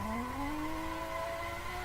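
Tyres squealing in a long sustained drift in the Assetto Corsa racing sim, the squeal rising steadily in pitch over a constant engine drone, loud and close with no talk.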